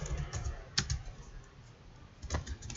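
Keystrokes on a computer keyboard, a few sharp taps near the start and a short cluster near the end over quiet room noise, with no talking.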